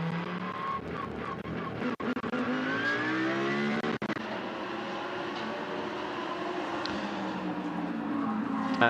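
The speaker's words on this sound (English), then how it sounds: "You can see you hear that naturally aspirated V10 go up the gearbox" A naturally aspirated V10 GT race car at the China GT Championship accelerates hard and climbs through the gears, its loud screaming engine rising in pitch with brief dips at each upshift, steady and close throughout.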